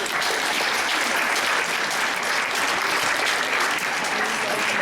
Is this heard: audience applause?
yes